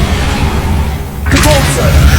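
A Confringo fire spell blast in Hogwarts Legacy: a sudden bright burst after a short lull, with crackling fiery noise trailing off over a steady low game background.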